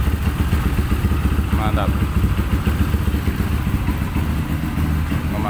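A motorcycle engine, a KLX or CRF-type dirt bike with a KEGFU 250 body set, runs steadily and smoothly at close range, with a short spoken word over it.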